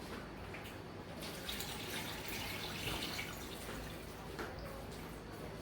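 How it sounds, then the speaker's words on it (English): Marinade for Southern-style sweet short ribs poured into a stock pot, a steady faint liquid splashing and trickling that runs throughout. "I'm going to pour in my marinade into the stock pot"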